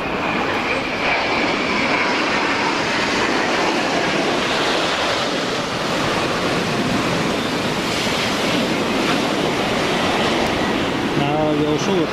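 Strizhi aerobatic jet aircraft flying loops in the sky over Barnaul on a January day roar continuously in a broad, loud wash of engine noise, heard outdoors from the ground.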